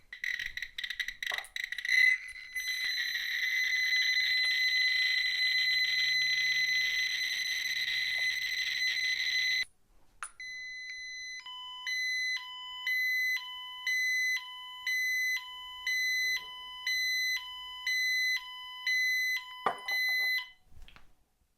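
A gamma radiation detector sounds its alarm, first as a loud continuous high-pitched tone for several seconds, then as a steady repeating pattern of short electronic beeps, close and alone.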